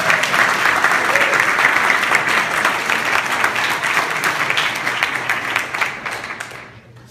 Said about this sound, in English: let's please give them all a big round of applause.